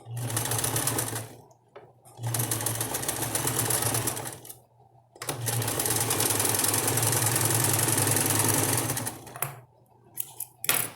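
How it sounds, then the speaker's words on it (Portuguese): A sewing machine runs zigzag stitches to fasten elastic onto a double-sided diaper cover, in three long steady bursts with short pauses between them and a brief final run. "Vou fazer uma costura de zigue-zague para fixar esse elástico"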